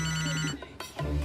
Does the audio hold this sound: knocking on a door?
no